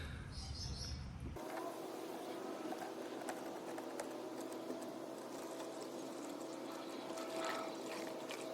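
Engine oil pours through a makeshift funnel during a service of a 20-year-old Ford engine, a soft continuous liquid trickle and gurgle that starts after a brief opening noise and runs faint and steady to the end.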